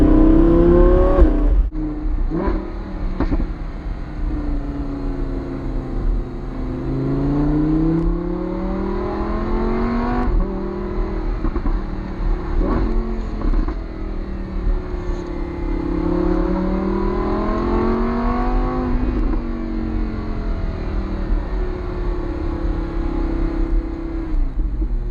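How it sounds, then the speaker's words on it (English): A Lamborghini Huracan Spyder's 600-horsepower V10 with all-wheel drive revs and accelerates repeatedly, the engine pitch sweeping up and falling back in several long surges, loud and steady with no talking. "we are in a 600 brake horsepower V10"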